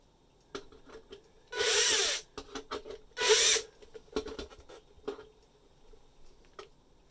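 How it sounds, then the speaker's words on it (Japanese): A cordless drill with a hole saw in low-speed clutch mode cuts a downlight opening in a ceiling, two loud whirring bursts with clicking, scraping taps and clutch ratchets between them. "クラッチモードにして穴を開けていきます。"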